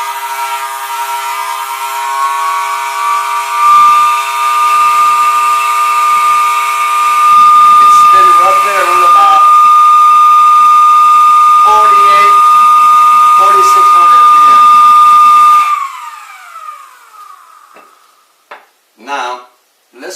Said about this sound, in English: Now, here's the motor,